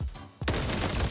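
The Sidewinder gun in Modern Warfare 3 fires in a dense, loud burst of rapid gunshots that kicks in abruptly after a brief lull and continues without pause.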